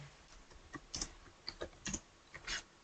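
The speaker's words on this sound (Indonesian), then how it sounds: "Oke, kita akan ketikkan sintaks ini." Scattered keystrokes on a computer keyboard as a Linux mount command for /dev/sdb1 is entered, a few quiet clicks then short bursts of quick taps, close and fairly soft.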